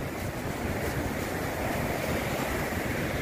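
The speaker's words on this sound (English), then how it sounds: "the ocean is not a pleasant place to be today" Rough ocean surf at St Lucia Estuary, a steady dense roar of breaking waves mixed with gusting wind buffeting the microphone, loud and continuous with no voices.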